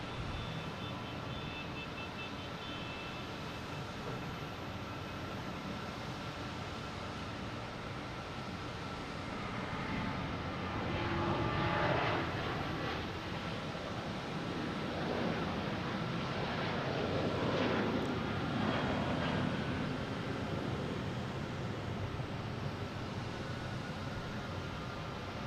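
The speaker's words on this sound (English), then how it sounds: "he's taking off as the Southwest heading to Baltimore" A Southwest jet takes off from Boston Logan International Airport for Baltimore-Washington as flight 727, a distant engine roar that swells in the middle and then eases, heard over wind and open-air hiss.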